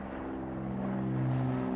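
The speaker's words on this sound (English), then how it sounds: "is that really an airplane going over here?" An airplane passes overhead with a steady, loud drone and a low hum that swells slightly toward the end, heard alone without talk.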